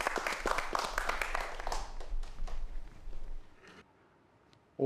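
Audience applause for a lecture on a Korean broadcast, a dense burst of clapping that thins and fades away, leaving near silence before a brief sound at the end.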